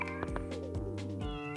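Nekomata, a cat demon in Persona 2: Eternal Punishment, lets out a few clear, close meows in a quick rising-and-falling run with no talk over them.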